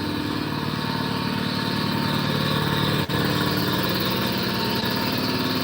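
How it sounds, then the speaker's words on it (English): A garage air compressor runs at a steady loud drone with a rough, buzzing motor tone for the whole stretch, with a single brief click partway through and no speech. "let's get some compressor noise in."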